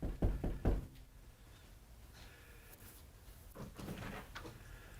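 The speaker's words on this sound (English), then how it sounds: "let's knock on her door and let's meet Ruth" Several firm knocks rap on a front door in quick succession, close and loud, followed by quiet room tone and faint shuffling sounds.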